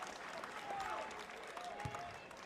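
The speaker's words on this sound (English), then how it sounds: "The crowd is on their feet." Basketball crowd at a women's college game between Duke and West Virginia, cheering and clapping after a made free throw. The roar is steady and broad, with brief bursts of noise within it.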